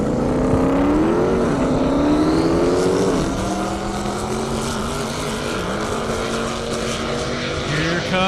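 A 2,000 horsepower C7 Corvette drag racing down an airport runway roars past with a loud, sustained engine howl, its pitch climbing then sliding lower as it passes, constant and dominant throughout.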